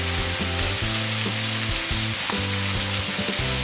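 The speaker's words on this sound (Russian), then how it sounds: "Пожарим наш бифштекс с каждой стороны по 2-3 минуты." A chopped beef steak fries in a pan, a steady close crackling sizzle that runs without pause, with low hum in the background.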